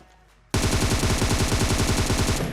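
Rapid automatic gunfire in the mobile battle royale game PUBG Mobile bursts in after a quiet moment, a loud, close, continuous stream of shots with a steady rapid rhythm that carries on to the end.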